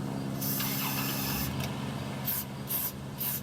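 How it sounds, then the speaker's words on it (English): An aerosol can hisses in long sprays inside the enclosed rocker panel of a 1997 Buick LeSabre, followed by several shorter bursts. "Just spray it everywhere in there."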